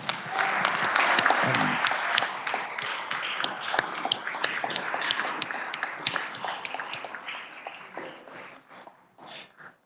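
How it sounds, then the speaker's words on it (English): A crowd in a state Senate chamber applauds warmly, dense clapping that stays steady for several seconds, then thins out and tapers off toward the end. "If we can give him a real warm round of applause here"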